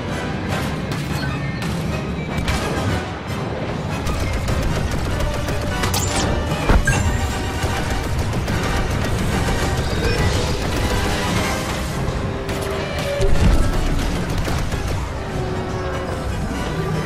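Starfighter blaster fire and explosions from Star Wars Battlefront 2 crash and boom continuously, dense bursts of shots and blasts layered over a loud game soundtrack.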